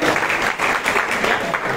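Audience at a satsang in Pandharpur clapping together, a dense, loud burst of applause held steady throughout.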